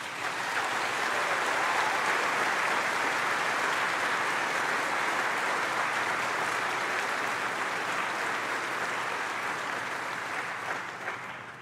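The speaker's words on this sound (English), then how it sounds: "Please join me in thanking them with a well-deserved round of applause." Audience applause at a university law school graduation ceremony, a large hall of steady, even clapping that holds for about ten seconds before tapering off slightly at the end.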